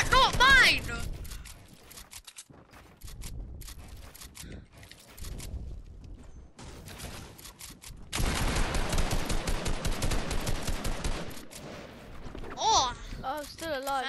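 Rapid bursts of gunfire in a Fortnite one-on-one match, sharp repeated shots clustered in volleys with gaps between, a dense sustained stretch near the end, with game effects mixed in.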